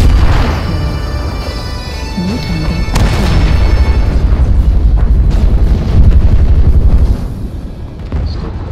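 Artillery strike explosions in the game MechWarrior Online, a loud sequence of heavy booms and rumbling blasts that rolls on for several seconds with a crackling tail.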